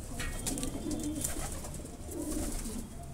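Several pigeons coo in low, throaty murmurs, overlapping and repeating, against a busy, noisy background with occasional flutter and clatter.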